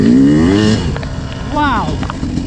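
Yamaha YZ250 two-stroke dirt bike spinning its rear wheel, a loud engine burst rising in pitch then falling off, followed by another brief rev, with a voice talking over it.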